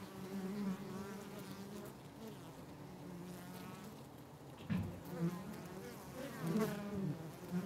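Honey bees buzz steadily at the hive as a forager returns from collecting nectar, a dense droning hum with a few louder passes close by.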